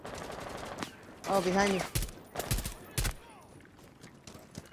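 Gunfire in the tactical shooter Rainbow Six Siege during a hostage round, with several sharp broadband shots and short bursts mixed into the game audio, while players talk briefly over it.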